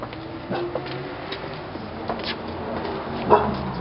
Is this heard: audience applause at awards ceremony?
no